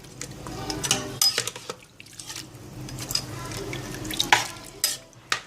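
Spoon scraping and clinking against a metal pot as a water mixture is stirred, irregular knocks and swishes at close range.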